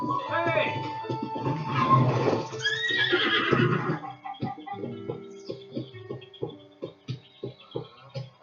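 Horse neighing in a Zelda video game: a loud, close whinny followed by a steady string of soft clip-clop hoofbeats, with game effects in the background.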